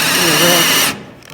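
A worn auger bushing on a Mayrath grain system squeals loudly and steadily for just under a second, then cuts off abruptly, leaving a faint low hum.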